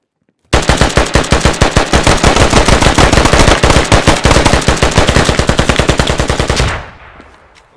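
Sustained automatic gunfire in the video game Squad, a loud, close, rapid unbroken string of shots lasting about six seconds before cutting off into a fading echo.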